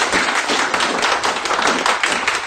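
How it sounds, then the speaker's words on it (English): An audience at a meeting claps in a round of applause welcoming speaker Robert Colman, loud, dense and steady throughout. "can I ask you to give a round of applause to"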